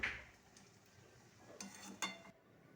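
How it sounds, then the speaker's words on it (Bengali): Banana flower sautéed in ghee in a pan is stirred with a utensil, giving a few faint clinks and scrapes against the metal over a soft sizzle, quiet and close with no speech. "তো মোচাটার মধ্যে একটু ঘি দিয়ে দিল। এবার একটু নাড়াচাড়া করে নেবে"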